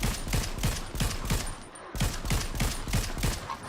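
Rapid bursts of gunfire in the Fortnite video game, repeated sharp shots in a quick rhythmic sequence with a brief pause in the middle, moderately loud and without talk.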